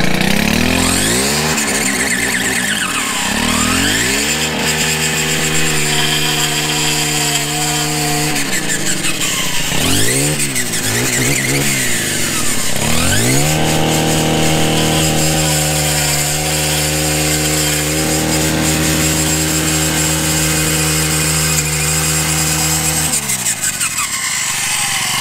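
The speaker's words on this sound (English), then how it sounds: "let's see what the edger and the blower will do" Stihl KM 91 R Kombisystem edger attachment running, a loud, close small two-stroke engine that revs up and down in long sweeps and settles into sustained high whines, with no talk.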